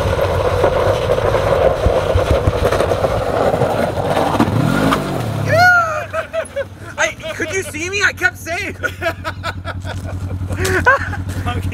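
Off-road overlanding vehicle engine revving as it climbs down a rocky desert ledge near Parker, Arizona, a loud rumbling drone that surges and fades, with people talking over it.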